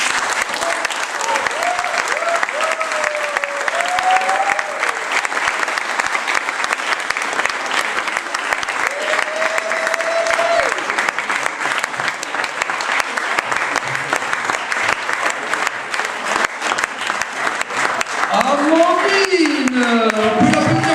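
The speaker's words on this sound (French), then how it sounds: "on peut l'applaudir encore" Sustained audience applause after a slam poetry round at a tournament, loud and steady for the whole stretch, with a few voices and cheers rising over the clapping.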